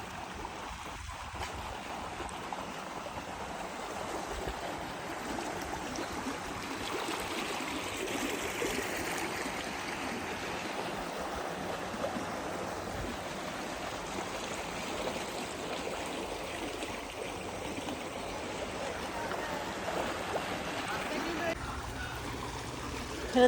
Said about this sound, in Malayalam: തോട്ടത്തിലേക്ക് വെള്ളം ഒഴുക്കി വിടുന്നത് നല്ല ഫ്രഷ് വാട്ടർ